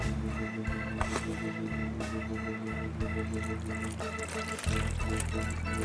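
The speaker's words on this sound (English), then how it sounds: "We're going to put a cup of water in there." A cup of water is poured into the pan of a smoker while rib tips cook, a steady liquid pour and trickle over an ongoing hum, rising slightly louder toward the end, with no talk.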